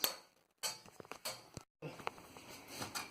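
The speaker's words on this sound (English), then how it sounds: "And I've already drilled the holes ready to screw in, which I'll do right now." A support piece is screwed into pre-drilled holes for the table of a 1966 Viscount Ambassador oven installation, heard as close, sharp bursts of clattering and knocking separated by short silent pauses.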